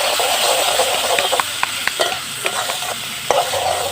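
Boiled Maggi noodles being tossed and stirred in a frying pan, loud steady sizzling broken by repeated light scrapes and taps of the spatula, close up.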